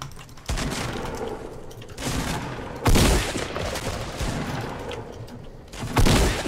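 Repeated video game gunfire in bursts, loud and close, with sharp heavy reports, continuous dense shooting and a few booming hits, no talk over it.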